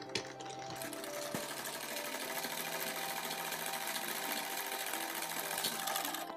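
A sewing machine runs steadily, laying a firm lockstitch along a seam of a ladies' suit, its fast even whir continuous and close throughout with no voices.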